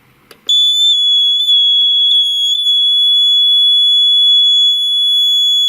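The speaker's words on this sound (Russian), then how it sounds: "потому что он очень громко орет." A cheap piezo buzzer from AliExpress sounding a single continuous piercing high-pitched tone, very loud and close, starting abruptly after a brief handling noise and holding steady for several seconds with slight wavering, no talk.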